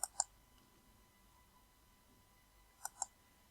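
Four sharp computer mouse clicks during a Revit Dynamo and Power BI workflow, a quick double click at the start and another pair near the end, close and quiet over a faint background hum.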